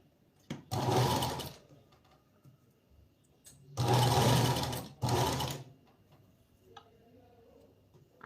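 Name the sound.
sewing machine stitching a blouse seam with long stitches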